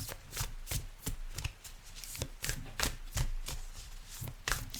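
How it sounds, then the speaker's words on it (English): A deck of oracle cards is shuffled by hand in a series of quick, crisp riffles and taps, repeated in an irregular rhythm, close and quiet with no talking. "Give it a few shuffles."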